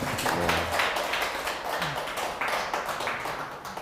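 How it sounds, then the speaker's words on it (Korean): Audience clapping at a 2021 Gyeongbuk teachers' union education practice event, a steady spatter of hand claps filling the room for a few seconds at moderate loudness. "열정맨을 위해서 박수 한번 보내줄까요?"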